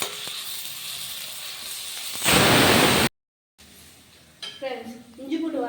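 Ginger-garlic paste being stirred with onions in a hot pan: a steady sizzle and fry, briefly louder with a burst of hiss, then a short cut before someone talks over the quieter frying.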